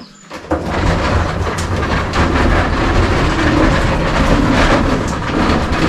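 A loud, steady rattling rumble of a workshop tool trolley's metal wheels rolling across a hard floor, continuous and close, with clattering shakes throughout.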